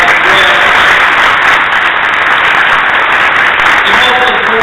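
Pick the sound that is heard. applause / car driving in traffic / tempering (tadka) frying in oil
applause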